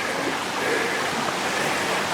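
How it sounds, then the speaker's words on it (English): A small stream on a waterfall hiking trail rushes in a constant, even wash of water noise, close by and steady, with no one speaking. "Literally have to cross rivers. Well, you'd call that a stream."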